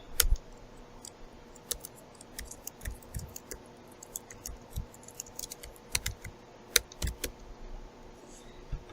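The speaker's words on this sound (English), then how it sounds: "If I put in my name and choose an email and type in a message," Quiet clicking of a computer keyboard as a message is typed into a website contact form, with uneven bursts of keystrokes and short pauses over a soft background hum.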